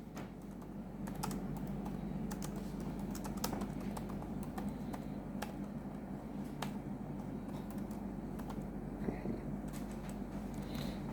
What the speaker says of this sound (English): So now you can type in your address.